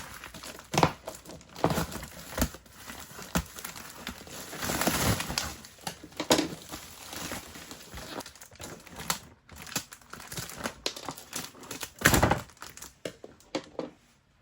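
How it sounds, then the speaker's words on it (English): Plastic packaging around a Kamolee 520 NM impact wrench is opened, making irregular close crinkling and rustling with occasional thumps and tearing sounds throughout. "I'm going to open the packet."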